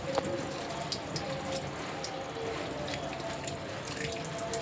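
Water runs steadily over a freshly cut and gutted barracuda as it is rinsed clean in a sink, a continuous close splashing flow with faint scattered drips and no talking.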